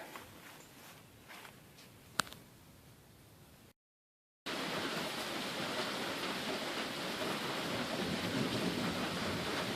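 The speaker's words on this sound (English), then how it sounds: "then the rain started to fall, and it's been raining for probably about 20 minutes" Steady rain falling over a cabin garden, a broad dense hiss that starts abruptly after a quieter stretch with one sharp click; no thunder stands out.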